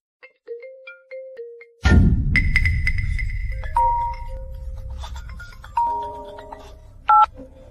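A mobile phone ringtone plays a bright electronic melody of beeping tones, starting faintly and continuing over a sudden low rumbling swell, with short repeated chimes near the end and no talking.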